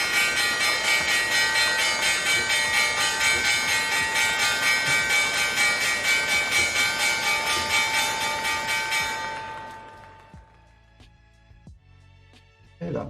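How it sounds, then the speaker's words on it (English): A stock market opening bell rings loudly and fast for about ten seconds as one continuous, pulsing metallic clang, then stops abruptly, leaving quiet room sound. "There's the bell."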